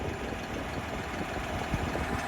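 A steady low tractor engine rumble runs throughout, idling with a continuous mechanical drone and slight vibration, no voices, while farm irrigation channels are being shaped in a field.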